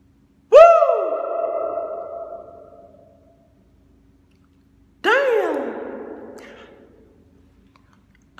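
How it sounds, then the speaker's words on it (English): A single voice calls out twice in a reverberant space, each short shout trailing off in a long echo tail that fades over about two seconds before silence returns. "I'm gonna try to echo and see how long it lasts."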